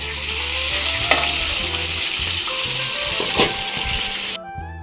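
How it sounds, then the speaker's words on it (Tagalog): Hot oil sizzles and crackles steadily as chicharon bulaklak deep-fries in its second frying, with occasional stirring clinks and a sudden drop in sound at the end. "Sasalang natin ulit ito para maging crispy na siya sa pangalawang pagprito"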